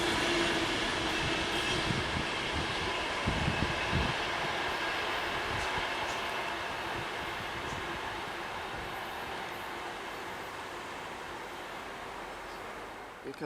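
An Avanti West Coast Pendolino class 390 electric train running from London Euston to Glasgow Central passes at South Hampstead, a steady loud rush of wheels and traction noise that holds throughout and slowly fades.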